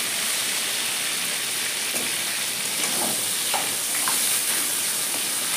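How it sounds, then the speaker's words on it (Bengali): Soaked potatoes fry in hot oil in a kadai, giving a steady, fairly loud sizzle and crackle that carries on without a break, with no talking. "ওই তেলেই আমি ডুবো করে রাখা আলুটাও ভাজি নেব"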